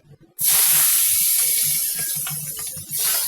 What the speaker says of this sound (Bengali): কড়াতে সর্ষের তেল দিয়ে দিচ্ছি দু টেবিল চামচ এতেই ম্যারিনেট করা মাছগুলো দিয়ে দিচ্ছি